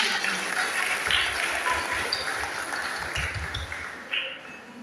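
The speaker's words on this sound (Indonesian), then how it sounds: "Tepuk tangan dong buat kita semua" Applause from a congregation at a Toraja church Christmas service, a moderate, fairly even clapping that carries on for several seconds, with a few faint tonal pings mixed in and no speech on top.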